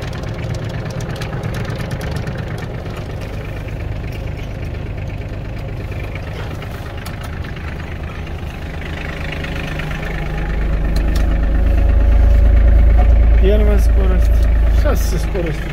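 The diesel engine of an Iseki Geas 33 compact tractor idles steadily and close while gears are shifted, and the low rumble swells louder near the end. Someone speaks over it throughout.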